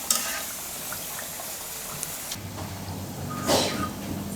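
Bajra flour chapadi frying in hot oil in a home kitchen, a soft steady sizzle running low and continuous with a few faint scrapes and clinks, no voices.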